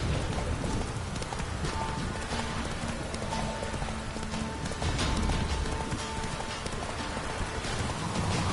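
Roach, a horse in a PS4 video game, gallops with a steady run of hoofbeats, loud and continuous under a dense game soundtrack with faint rain.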